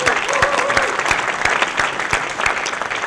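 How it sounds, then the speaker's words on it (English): An audience at a tech meetup applauds loudly and steadily, a dense wash of clapping with a few sharp individual claps and faint cheers standing out, continuing throughout. "That's the kind of clap I'm going for."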